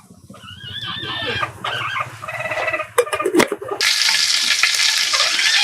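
Dry red chillies and onions hit about four spoons of hot oil in a wok for a mixed egg, brinjal and chicken curry, with scattered clinks and a sudden loud, bright sizzle that takes over near the end.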